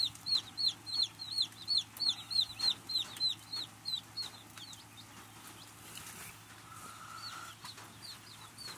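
Newly arrived mail-order chicks give a quick run of bright, regular peeps for several seconds, then fade to softer scattered chirps over a low background hum.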